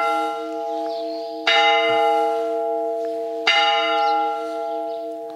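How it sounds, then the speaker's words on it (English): Church bells ring out in strong, sustained peals in Spain on the Camino de Santiago between Hornillos and Castrojeriz, with two louder strikes renewing the resonant, humming tones that hang in the air. "Oh, just when the bells are ringing."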